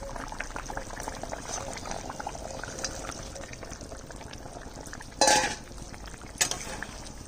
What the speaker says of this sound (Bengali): ঝোলটা ফুটে গেছে, এবার আমি মাছটা দিয়ে দিই